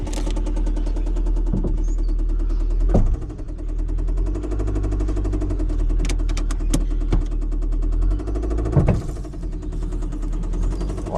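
An engine runs rough and uneven, with steady low rumble broken by sharp knocking bursts and pops, heard close and loud throughout with no talk.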